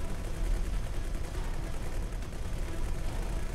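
Gunfire pounds a space station in X4 Foundations, a dense, continuous rattle of rapid shots over a heavy low rumble that never lets up.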